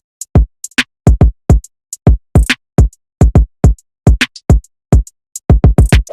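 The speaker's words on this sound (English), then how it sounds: "which was followed by this hi-hat." Dark African trap beat programmed in FL Studio with a hi-hat sample, playing as a loud, punchy electronic drum pattern of about two dozen sharp, evenly spaced hits with short gaps between them, no voice present.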